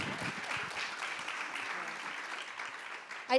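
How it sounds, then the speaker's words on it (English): Applause from the audience at a civil society panel fills the room as a steady, moderately distant wash of clapping that holds evenly for a few seconds. "I think you got some applause coming."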